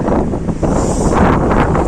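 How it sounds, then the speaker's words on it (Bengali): Strong wind blows hard across the microphone outdoors on a cloudy day in Atlanta, a dense roaring buffet that stays close and loud throughout without letting up. "বুঝতেই পাচ্ছেন এত হাওয়া দিচ্ছে"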